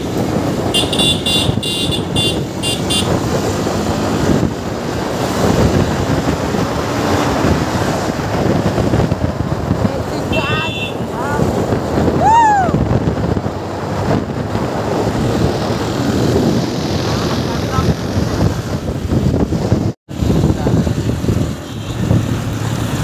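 A vehicle moving along a tunnel road at night, heard from inside as a continuous loud rumble with heavy wind buffeting, brief high tones and a sharp dropout near the end, no talk.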